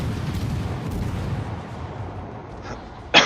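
Naval gunfire rumbles through a warship video game, a dense wash of low booming shots and distant impacts, with a sharper, louder blast cracking out near the end.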